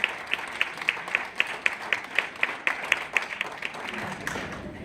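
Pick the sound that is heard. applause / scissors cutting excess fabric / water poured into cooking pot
applause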